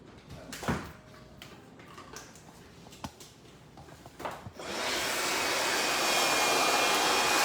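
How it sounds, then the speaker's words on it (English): Some soft handling clicks and rustles, then a hair dryer switches on into a steady, loud, breathy whoosh that continues to the end. "I like to go in with the blow dryer."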